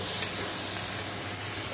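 Vegetables with tomato, chilli, dried red chilli and five-spice tempering sizzle and fry in a pan while being stirred, a close, continuous hiss with faint scraping and no talk.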